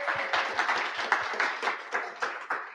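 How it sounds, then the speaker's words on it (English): A modest crowd at a London cloud computing conference claps for the speakers, a thin round of distinct, fairly close hand claps in an uneven rhythm, with no talk over it. "we need to give a big round of applause to all of the speakers who've given up their time and spoken today"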